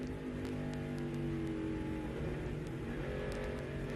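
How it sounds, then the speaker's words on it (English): A NASCAR Busch Series race car engine in Mexico, 2006, drones steadily with a few sharp throttle blips and crackles, heard from a distance without any voices. "Playing with the throttle, you can hear him."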